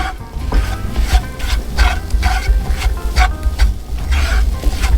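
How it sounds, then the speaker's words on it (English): Flour cooks in a pan for a mushroom and onion gravy, stirred continuously with a spoon, making loud, close rhythmic scraping strokes over a gentle sizzle, with no talking. "Now, make sure with this stuff, you keep stirring."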